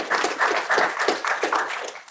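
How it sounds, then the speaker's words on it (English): Applause at a school district regular board meeting, a burst of many hands clapping in a steady crackling wash that swells and dips in waves for a couple of seconds. "I think that in itself is a great grand applause"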